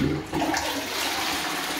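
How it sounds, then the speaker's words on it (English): A toilet flushes in a bathroom, a loud, close rush of swirling water that fills the whole short stretch without letting up. "Toilet is flushing."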